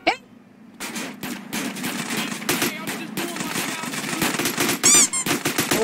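A TMP submachine gun fires rapid, loud bursts in GTA San Andreas Definitive Edition, with a voice talking over the gunfire.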